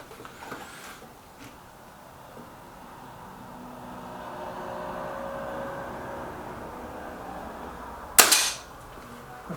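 A Kral Puncher Knight air rifle fires at a target: one sharp, loud crack near the end, set against a quiet background hum, with faint ticks earlier.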